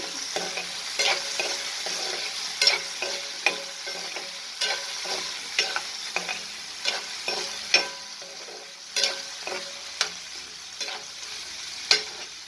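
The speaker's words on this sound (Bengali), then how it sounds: "একটু পরেই আমি খুলে নাড়াচাড়া করে দিচ্ছি" Potatoes frying in a pan with a dense steady sizzle, stirred by a spatula in frequent scraping strokes and sharp taps throughout, close and fairly loud.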